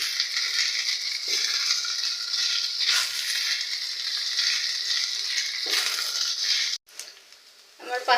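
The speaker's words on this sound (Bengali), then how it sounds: "মশলাগুলো দিয়ে ভালো করে নেড়ে চেড়ে নেব" Pasta tossed with two packets of spice mix in a pan, a steady sizzling frying hiss with stirring scrapes, briefly interrupted near the end before resuming.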